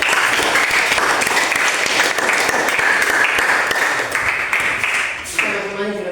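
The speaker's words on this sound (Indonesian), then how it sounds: "tepuk tangan dulu untuk kita semua" A group of people applaud together at a school gathering on positive culture practice, with steady, loud clapping filling most of the clip before tapering off near the end.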